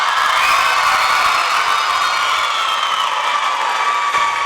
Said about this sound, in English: Quite a crowd for Pioneer and Covington both